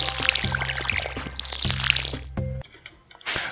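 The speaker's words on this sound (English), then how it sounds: "let me go ahead and water these" Watering crops in Stardew Valley, repeated splashing pours from the watering can in quick bursts over game background music, with no talk.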